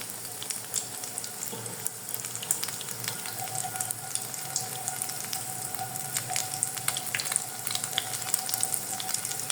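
A folded Mughlai paratha stuffed with egg and chicken fries in hot oil, giving a steady, moderately loud crackling sizzle with scattered sharp pops throughout and no voices.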